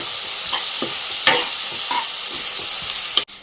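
Masala for Guntur-style mutton curry fries in a pan, a bright steady sizzle punctuated by a series of quick spoon scrapes and taps, close up and fairly loud, with no talking.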